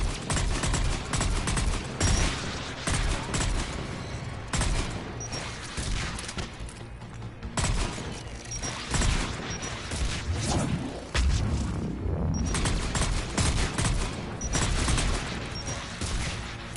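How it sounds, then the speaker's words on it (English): Rocket troopers in Mass Effect 3 firing rockets in a near-continuous barrage of blasts, booms and crashing impacts, loud and dense throughout with no talking. "shoot rockets at each other"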